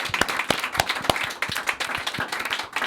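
Audience at a live show claps in an irregular patter of sharp, close hand claps, loud and dense for a few seconds, with a little talk underneath.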